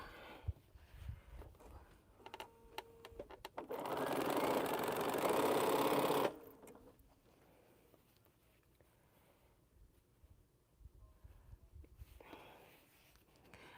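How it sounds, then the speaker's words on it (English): A sewing machine stitches mini pinwheel quilt blocks in one quick burst of about two seconds, a rapid mechanical whir standing out against an otherwise quiet, low room tone. "I'm just gonna sew some of this."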